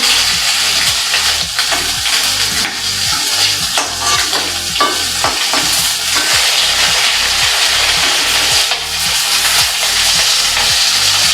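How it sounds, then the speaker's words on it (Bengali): Cumin seeds and bay leaf tempering in hot oil, a loud, steady sizzle with crackling and the clatter of stirring running throughout. "একটু জিরে ফোড়ন দিলাম, একটু তেজপাতা দিয়ে পেঁয়াজগুলো দেবো।"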